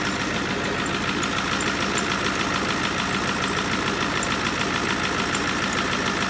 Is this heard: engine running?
yes